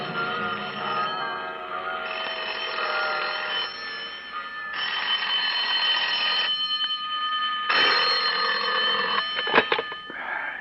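Buddhist temple bells ringing loudly in long, sustained bursts, a bright metallic clangor that stops and starts several times, with no voices.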